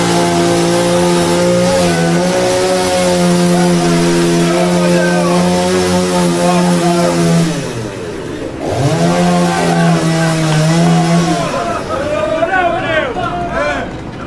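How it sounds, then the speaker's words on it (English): A chainsaw carving meat drones loudly with a steady buzzing engine whine. Its pitch sags and dips midway, then it revs back up and keeps running, with some voices underneath. "Carving meat with a chainsaw?"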